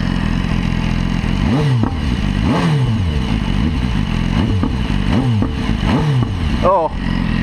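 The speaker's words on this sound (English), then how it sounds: "can you hear the crackle of that exhaust?" A BMW S1000RR motorcycle engine revs repeatedly with rising and falling pitch, exhaust popping and crackling between pulls, loud and continuous.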